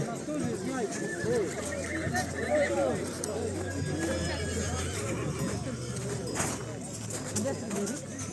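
Horses whinnying and neighing repeatedly at close range amid a busy murmur of voices and scattered hoof sounds, at a horse show high in the mountains in Ukraine.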